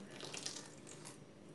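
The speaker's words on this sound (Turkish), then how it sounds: "Üzüm sirkemi ilave ediyorum." Grape vinegar pours into a tomato ezme pickle mixture, a soft, steady liquid trickle and splash lasting a moment, quiet and close with no talk.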